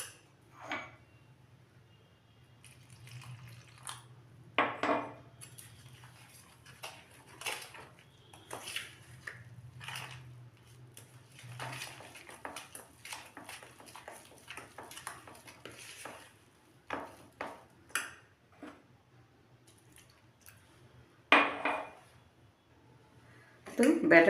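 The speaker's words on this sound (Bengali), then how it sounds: "এখন আমি সবগুলো উপকরণ মিশিয়ে নিয়ে অল্প অল্প জল দিয়ে আমি একটা ব্যাটার তৈরি করে নেব।" Intermittent scraping and clinking of a spoon in a bowl as snack batter is mixed with water, soft and close, with gentle stirring strokes separated by pauses and a low hum underneath.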